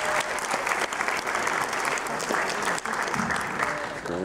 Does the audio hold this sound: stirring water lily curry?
no